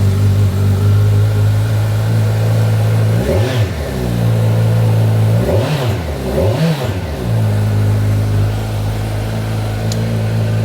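Kawasaki Ninja 1100SX motorcycle fitted with an aftermarket exhaust idles with a steady low rumble, then is blipped three times in quick short revs, rising and falling, loud and close, with no talk.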